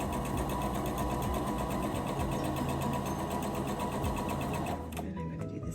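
A sewing machine stitches fabric for a patchwork pillow, its motor humming in a steady, fast, even rhythm up close before it slows and stops near the end.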